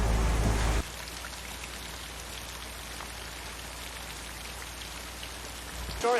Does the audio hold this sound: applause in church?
no